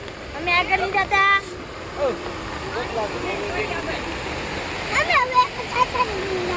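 A flooded village river in rainy weather rushes steadily in the background while several people chat and call out over it nearby.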